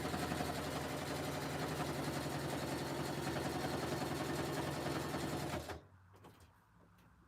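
A Singer sewing machine stitches a jelly roll rug with a loud, steady, fast mechanical whir and needle chatter close by. It runs for over five seconds, then stops abruptly, leaving near silence with a faint click.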